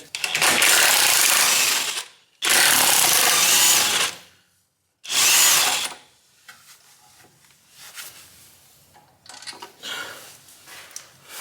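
Three loud, sustained bursts of a power tool, likely an impact wrench, removing the two 16mm rear brake caliper bolts on a BMW E90 318d, separated by short pauses and followed by quieter clinks and handling sounds.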